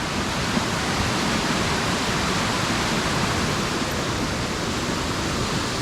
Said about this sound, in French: Donc là on a la jolie cascade d'Ariz.